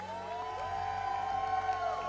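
A steady roar of crowd noise fills a Halo HCS esports arena in Charlotte, a sustained wash of cheering with a constant tonal hum layered over it, heard without speech.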